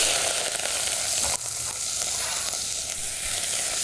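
Chopped onion sautéing in very hot olive oil for a Valencian paella, a steady loud sizzle with a brief dip partway through, no voices.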